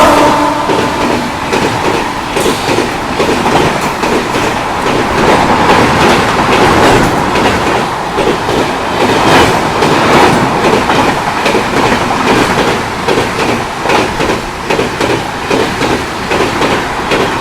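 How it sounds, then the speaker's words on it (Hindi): A weekly superfast express train running from Howrah to Mumbai CST passes alongside on Indian railway track, with loud continuous rumble and steady rhythmic clickety-clack of wheels over rail joints throughout. "यहाँ पे हमें ओवरटेक करने आ रही है हावड़ा से चल के मुंबई CST को जाने वाली एक साप्ताहिक सुपरफास्ट एक्सप्रेस।"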